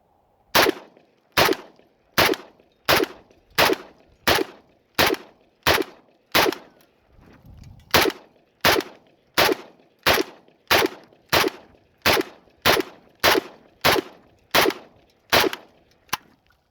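A Century Arms VSKA AK-47 rifle fires about twenty loud, sharp shots at a steady, even cadence, each crack ringing out alone with no voices.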